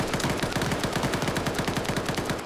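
Rapid automatic gunfire in a tactical shooter video game, a dense continuous burst of evenly spaced shots rattling on for over two seconds, loud and up close with no voices over it.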